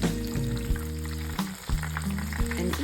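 Banana fritters frying in oil, a dense close sizzle under a steady low hum, with a couple of brief louder bumps.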